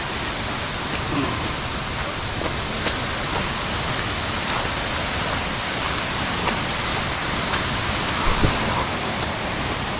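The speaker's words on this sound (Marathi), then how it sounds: "पाणी डायरेक्ट असं वरून पुढं उडतंय" Water pours down a waterfall in the Bhimashankar forest, a loud, dense, unbroken roar that fills the whole stretch, near and steady, with no talking.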